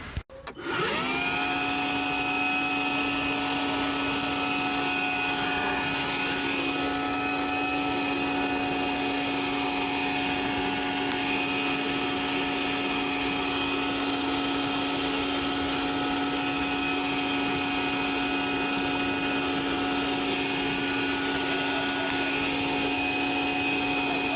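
A Ryobi 18V RV1811 cordless workshop vacuum cleaner with a brush attachment starts up and then whirs at a steady, high-pitched drone, close by and continuous with no talking.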